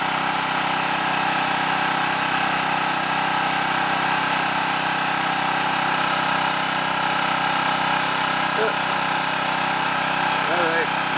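A Predator HF 212cc Honda-clone small engine, running slightly lean, idles in a steady, loud mechanical drone with constant vibration throughout, and a voice speaks briefly over it.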